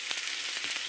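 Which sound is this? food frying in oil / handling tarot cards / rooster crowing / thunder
food frying in oil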